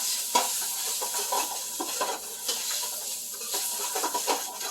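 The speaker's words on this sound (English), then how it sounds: "And stir this about." Soup with celery, salt and pepper being stirred in a pot: a soft, rhythmic scraping of strokes over a faint simmering hiss, quiet and close, with no talking.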